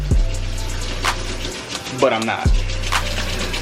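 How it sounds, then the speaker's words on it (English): Hot water runs from a kitchen tap with a steady hiss and low rumble, briefly cut off and restarted, while a person speaks over it. "cut off the cold water, turn on the hot water"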